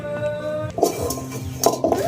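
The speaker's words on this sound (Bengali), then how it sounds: "আবার কড়া মারছে।" A little girl bangs a metal kadai with her feet, making clanging metallic knocks and ringing clinks in an uneven rhythm, close by, with light domestic background noise.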